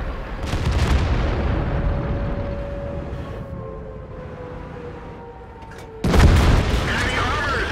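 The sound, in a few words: HE shell fired at IS-7 tank in video game World of Tanks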